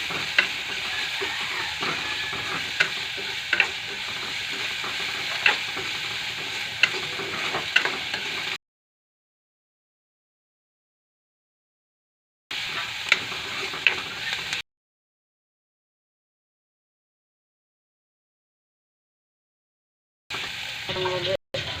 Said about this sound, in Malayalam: നല്ല മിക്സ് ചെയ്യാം, ഒരു ബ്രൗൺ കളർ വരും വരെ.